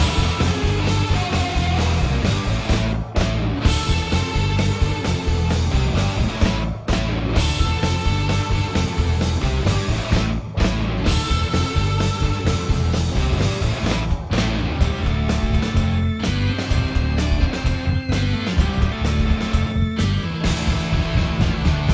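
A band performs a song live at Austin City Limits, a dense, loud full-band rock sound with heavy bass and drums running continuously from start to finish.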